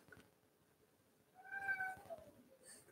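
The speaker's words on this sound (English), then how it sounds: "Why are you crying in the hall, kitty?" A pet cat meows in a hallway indoors, one soft, drawn-out cry at moderate distance, with faint background noise before and after.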